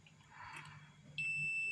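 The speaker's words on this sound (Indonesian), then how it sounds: "Nah, ini ada bunyi bip, itu tandanya elemen ini masih bagus" An analog multimeter's continuity buzzer sounds while testing a rice cooker heating element. After a faint rustle, the beep starts abruptly as a steady, close, high-pitched tone that holds to the end.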